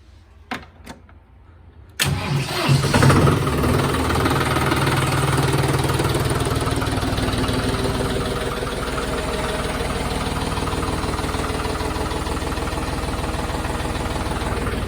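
A tractor engine cranks after a couple of clicks, catches and settles into a loud, steady, slightly knocking diesel idle that continues close by without talk.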